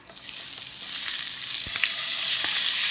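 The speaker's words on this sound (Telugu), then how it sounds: "ఆయిల్ ఒక స్పూన్ వేద్దాం ఫ్రెండ్ ఇప్పుడు టమాటాలు వేద్దాం" Tomatoes frying in a spoonful of oil for coriander-tomato chutney give off a steady, close sizzle with a few soft crackles, heard alone with no talking.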